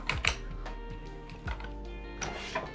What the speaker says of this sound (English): these are a really good adjustable dumbbell that are easy to switch between weight, where you can just click it to the next weight